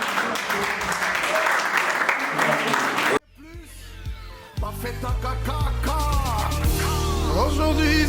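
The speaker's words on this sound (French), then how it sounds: "Est-ce qu'on peut acclamer quand même?" A crowd claps and cheers loudly at a 50th birthday party for about three seconds, then the applause cuts off and music with voices takes over.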